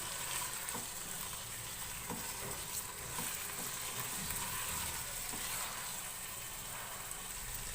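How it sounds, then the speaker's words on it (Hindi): Meat fries with onions in oil over a high flame, producing a dense, steady sizzle that runs without a break and stays close. Occasional faint stirring scrapes sit under the sizzle, and nobody speaks. "गोश्त को प्याज के साथ अच्छी तरह से फ्राई कर लेंगे"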